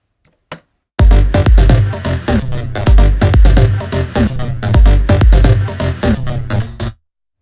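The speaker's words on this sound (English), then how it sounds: "I used the stutter edit on the stereo out" Electronic track run through a stutter edit effect on the stereo out, triggered from a MIDI keyboard: a couple of short clicks, then a loud, dense beat with rapid rhythmic chopping and repeated bass hits that stops abruptly.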